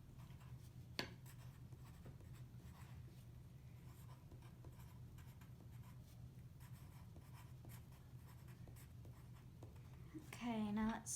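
Handwriting notes about peas, a faint, steady scratching of pen on paper over a low hum, with a voice rising at the end.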